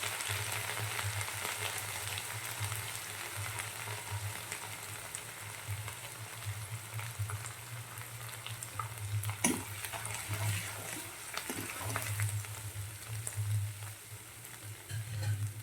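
Steady sizzling of eggplant and potato curry frying in a pan with ghee and ginger-chili paste, with a low hum underneath and a few soft clinks, fairly quiet and continuous.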